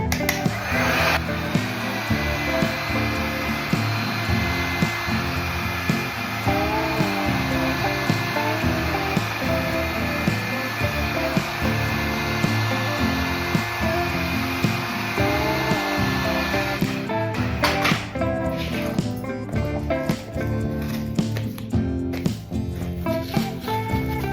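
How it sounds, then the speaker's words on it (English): A heat gun blows hot air onto tape stuck to a Baltic birch wood blank, giving a loud, continuous whooshing drone with a steady whine that runs the whole time, with some shuffling and scraping near the end. "Just heat this up with your heat gun."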